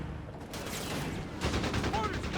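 Machine gun fire in the Company of Heroes 3 strategy game, likely the MG-42: rapid, fairly faint crackling bursts that thicken after about a second and continue steadily to the end.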